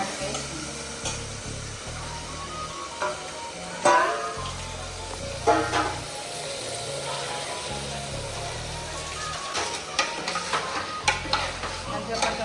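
Mutton pieces dropped into a hot pan and stirred for a home-cooked dish, with a steady close sizzle and scraping spoon strokes, plus a few sharper clinks over the frying.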